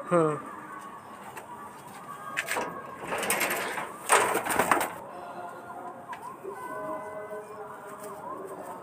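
A pigeon coos in soft repeated calls near a loft, heard alongside a burst of fluttering or rustling in the middle, with people talking nearby.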